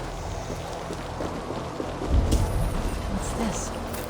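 Steady rain pours in the video game Assassin's Creed Valhalla, a dense continuous hiss with a low rumble swelling midway, with no talk.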